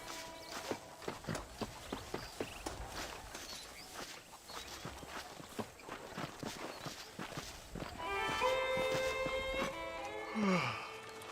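Horse hooves clip-clopping at a walking pace in Red Dead Redemption, a steady run of soft thuds that gives way near the end to a held tone and other game sounds.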